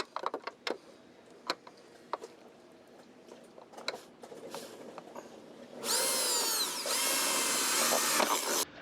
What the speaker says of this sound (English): go to the boat and drill some holes